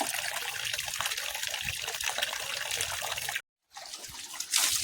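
Water pours and trickles steadily during a dog's bath, a close continuous splashing stream that stops briefly near the end before resuming.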